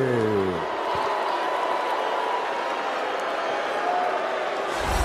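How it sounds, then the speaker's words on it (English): Steady arena crowd roar at a UFC event in Sacramento, a broad sustained murmur of boos and voices with no break, loud and diffuse. A voice sounds at the very start. "I'm sure you can hear the crowd in here booing a little bit."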